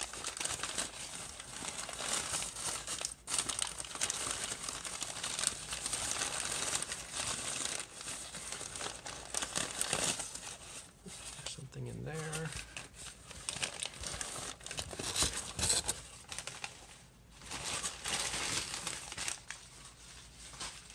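Newspaper crumpled and crinkled by hand while a box is emptied, a continuous papery rustle with brief tearing-like bursts, close and fairly loud, with a voice talking over parts of it.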